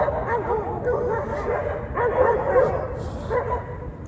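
Several dogs barking, yipping and snarling in a scuffle, a continuous close and fairly loud tangle of growls and yelps with surges of sharper barking.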